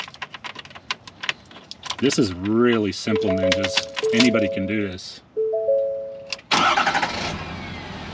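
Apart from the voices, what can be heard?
truck engine being started with the key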